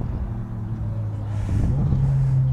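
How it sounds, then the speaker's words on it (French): Sports cars such as a Nissan GT-R and a Ferrari F430 arriving, a steady low engine rumble that swells louder as a motor climbs in pitch near the end. "Après on a une Nissan GT-R, F430 qui arrive."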